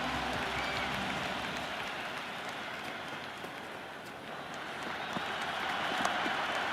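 A cricket video game's stadium crowd roars continuously after a six is hit, a broad, steady wash of cheering with slight swells, moderately loud and alone.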